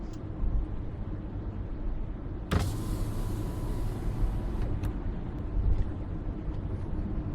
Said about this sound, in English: opening a window does a better job.